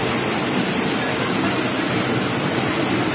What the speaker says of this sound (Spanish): Es un dique bonito de las cascadas y siguen más cascadas.